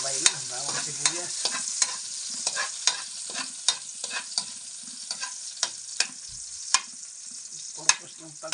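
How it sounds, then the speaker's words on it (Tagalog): Garlic and onion sizzle and fry in a pan for pork afritada while a utensil stirs them, scraping in frequent sharp clicks over a steady frying hiss, close and fairly quiet. "lagyan natin yung bawang. Ayan, sabay na. Bawang sibuyas"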